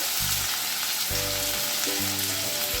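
Okra, ridge gourd and other mixed vegetables hit a hot pan for a Bengali vegetarian curry, giving a loud steady sizzle with a few tonal scraping bursts as they land and are moved about.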